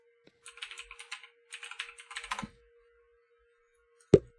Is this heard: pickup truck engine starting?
no